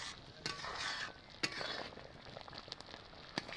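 Homemade tomato sauce stirred as it cooks down in a pan, a soft continuous bubbling sizzle broken by occasional utensil scrapes and light clinks against the pot, close and fairly quiet.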